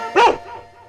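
A dog gives a single short, loud bark close by, with a faint tail of room noise after.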